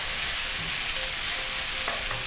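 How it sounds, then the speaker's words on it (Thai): Yaki udon noodles being stir-fried in a hot pan with oyster sauce, soy sauce and sugar: a steady, loud, close sizzle with occasional light scraping from stirring, no talking. "ผัดให้เข้ากันค่ะ"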